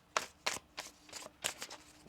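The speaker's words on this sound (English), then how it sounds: "One more shuffle here." Tarot cards shuffled by hand in a quiet room: a handful of quick, crisp riffling bursts and soft flicks in an uneven rhythm, close and faint, with no voices.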